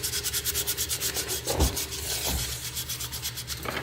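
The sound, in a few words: sanding a wood carving with sandpaper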